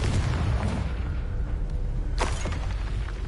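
A Confringo blasting spell explodes in the Hogwarts Legacy video game: a sharp burst near the two-second mark rises out of a continuous rumbling game soundscape, with no talking.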